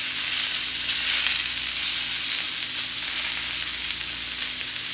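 Steak flap meat sizzling on a very hot Mongolian barbecue grill, a loud, steady, hissing sizzle that continues without a break and with no voices.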